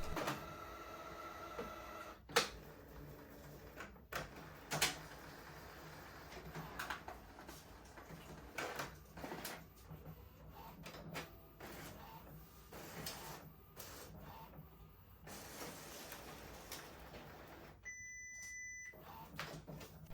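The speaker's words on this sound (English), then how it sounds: "Using my Office program of choice, I set up the envelope for printing. We'll print it out." An Epson EcoTank ET5800 inkjet printer prints an envelope in a quiet room, giving soft mechanical clicks, feeds and short whirring passes, with a couple of faint electronic beeps near the end.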